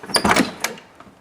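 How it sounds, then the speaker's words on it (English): A car door on an old original V8 car in a junkyard opens with a loud metallic clunk and latch rattle, followed by a softer thud, short and close. "As long as I can open the door?"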